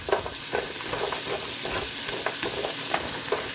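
Carrots sizzle and crackle steadily in a single frying pan during a chicken stir fry, with faint stirring clicks scattered through the continuous frying hiss.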